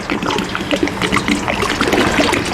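Hot water from a kettle pours into a container for cleaning, a continuous close splashing trickle with a bubbling, gurgling texture and no talk.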